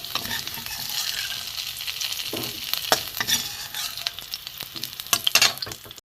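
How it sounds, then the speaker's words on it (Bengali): Potatoes frying in a little oil in a pan crackle and sizzle up close, with frequent scraping stirs and clicks that grow busier toward the end. "আলুটা একটু ভালো করে ভেজে নেব লাল করে"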